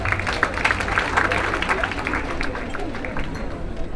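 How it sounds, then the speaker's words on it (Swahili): Broad, crackling clapping from a crowd at a college career day fills the space, steady and loud at first, easing slightly toward the end, with faint murmuring underneath. "Tupigiane makofi tafadhali."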